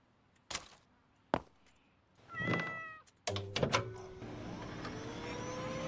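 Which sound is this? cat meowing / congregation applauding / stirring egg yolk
cat meowing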